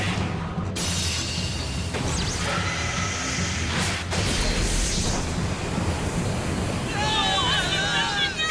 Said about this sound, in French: Il y a 2 rafales de vent!